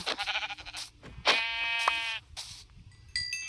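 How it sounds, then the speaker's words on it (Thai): Sheep bleat repeatedly in Minecraft, a few nasal wavering calls of varying pitch following one another, fairly close and loud over soft game background noise. "เอ้ยเจอแกะอีกหนึ่งตัว"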